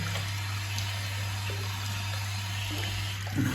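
Tap running steadily with clean water for rinsing shaving soap off after a straight-razor shave, a constant close splashing flow with a low hum underneath and a small bump near the end.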